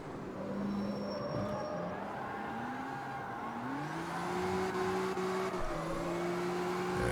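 A car fitted with an RB engine in the racing game CarX Street drones steadily up close, its engine note climbing and shifting pitch through several rises as it accelerates, loud and continuous with no talk.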